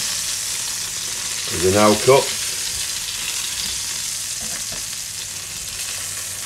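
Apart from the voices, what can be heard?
garlic chicken frying being lifted out of the pan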